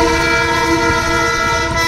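A Darjeeling toy train sounds its horn in a loud, steady, sustained blast, with the rumble of the running train beneath it and no voices.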